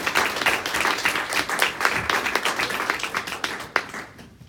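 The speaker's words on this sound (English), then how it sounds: "let's give Rebecca another round of applause." An audience claps for a speaker at the end of a talk, a lively burst of many hands that carries on steadily and then tapers off near the end.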